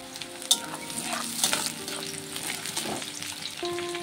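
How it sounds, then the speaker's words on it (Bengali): Onion fries in a pan with green chillies for a cabbage and crab-leg dish, giving a steady close sizzle with a few spatula scrapes and clinks. "পেঁয়াজটিকে একটু ভেজে নেব।"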